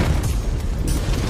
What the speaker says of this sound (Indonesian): dan meledak